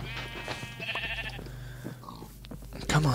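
Sheep bleating in Minecraft, a few wavering bleats over steady background game sound, with a voice briefly heard near the end.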